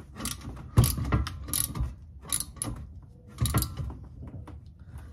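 A hand ratchet tightens exhaust header bolts on an EK hatch during an HKS exhaust install, its pawl clicking in quick rhythmic bursts with short pauses between strokes, close and clear.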